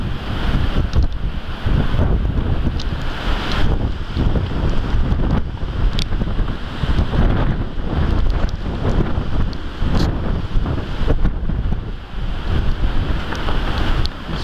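Strong, relentless wind from cyclone Batsiraï roaring against the microphone, loud and continuous with gusting surges and no talk.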